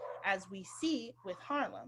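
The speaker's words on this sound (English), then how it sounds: "I think that's my dog." A dog barks and yips a few times close by, with a person talking over and between the barks.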